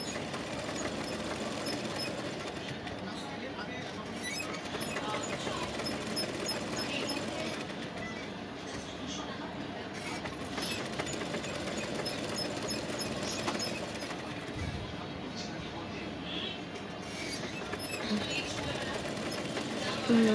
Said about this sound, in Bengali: সেলাই করে নিচ্ছি।